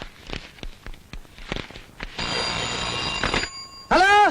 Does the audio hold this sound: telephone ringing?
yes